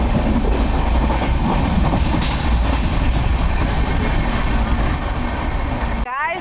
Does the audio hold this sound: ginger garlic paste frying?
no